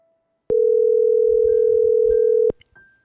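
A telephone dial tone sounds as a call is placed during a live pastoral counselling broadcast, a loud steady hum lasting two seconds that cuts off abruptly, followed by a couple of faint brief beeps.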